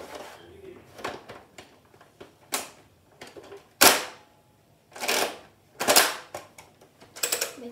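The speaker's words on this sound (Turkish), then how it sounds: "göstereyim silah nasıl atıyor." A Nerf Thunderhawk toy blaster fires foam darts, giving several separate sharp pops and snaps spaced a second or so apart, fairly close and clear with no talking over them.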